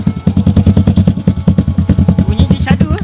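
A Yamaha LC135 motorcycle fitted with a modified Rafix exhaust runs close and loud, with a fast, evenly pulsing exhaust beat throughout and a brief blip of throttle near the end.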